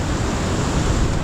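Monsoon floodwater rushes past with strong pressure, a loud, dense roar of churning water that stays unbroken and close, with no voices.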